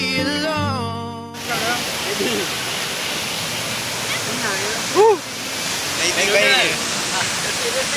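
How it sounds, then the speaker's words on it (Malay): Waterfall at Air Terjun Pandan in Pahang, a steady broadband rush of falling water that fills the clip, with a short burst of music at the start and voices and a brief shout heard over the roar. "Air terjun. Air terjun."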